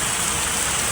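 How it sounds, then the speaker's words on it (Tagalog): Heavy rain pouring down as a dense, steady, loud hiss that fills the whole second with no pause. "malakas ang ulan."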